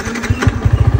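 Motorcycle engine revving during bike servicing, a rapid run of loud, close throttle blips pulsing in an even rhythm, heard alone without talk.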